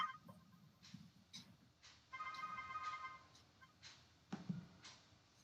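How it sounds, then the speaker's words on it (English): A phone rings on an Android emulator on a computer: a faint electronic ringtone chimes for about a second in a quiet room, among soft clicks and light handling sounds, with no talk. "It's ringing. It's ringing."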